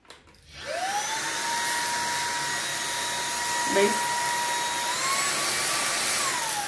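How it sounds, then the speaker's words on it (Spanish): A lightweight 2 kg cordless vacuum cleaner with three speeds hums steadily and close by, its whine rising in pitch as it runs continuously, with a brief word spoken over it partway through. "me gustaría tener algo ligero para poder aspirar bien el sofá"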